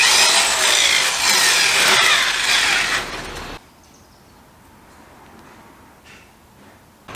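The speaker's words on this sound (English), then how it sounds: "I'm going to go ahead and drill that out as well" A power drill bores loudly into a zinc-plated mild steel pan to open out a cut slit, grinding steadily for about three seconds before stopping abruptly, leaving a quiet room.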